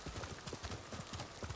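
Horse hooves clip-clop in a steady, quick rhythm in the video game Ghost of Tsushima, fairly quiet and heard alone.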